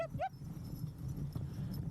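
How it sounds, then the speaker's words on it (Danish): Sled dogs haul a dog sled downhill on a Svalbard expedition, giving a brief high yelp or whine at the start, then a steady rushing run of noise throughout. "Starten af turen på hundeslæde var ned ad bakke, og de hunde kunne virkelig trække for land."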